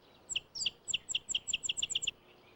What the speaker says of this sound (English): The rufous-winged sparrow sings all through the year.